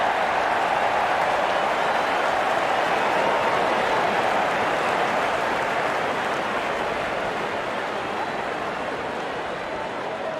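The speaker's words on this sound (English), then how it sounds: "Out come the openers, cheered by a good crowd in." Crowd at a cricket match cheering and applauding as the opening batsmen walk out, a steady dense roar of clapping and voices that fills the whole stretch without letting up.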